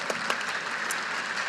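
Brief applause from a keynote audience in Edmonton, a soft, even patter of many hands with a few sharper claps standing out, heard from a distance.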